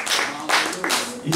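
A church congregation claps hands in praise to God, a few loud bursts of applause-like clapping in quick succession, close and lively, with voices mixed in.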